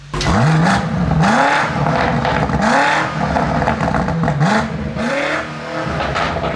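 A Mercedes C63 AMG engine idles in neutral with a deep, uneven exhaust burble, pulsing in repeated swells that rise and fall, loud and close.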